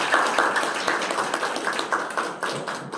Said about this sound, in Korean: 여러분 박수로 환영해 주시기 바라겠습니다